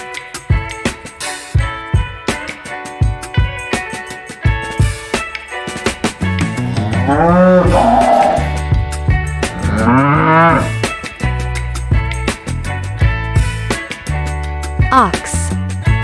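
Cow mooing over a bright children's music track, a few long, loud lowing calls rising and falling in the middle, with a brief giggle or voice near the end.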